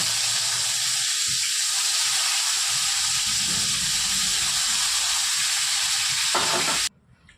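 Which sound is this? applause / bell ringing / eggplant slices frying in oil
eggplant slices frying in oil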